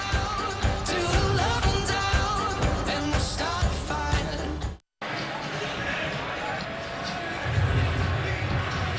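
Crowd noise from TCU fans at a packed football stadium in Fort Worth, a steady roar of cheering with a commentator talking over it and a short dropout midway.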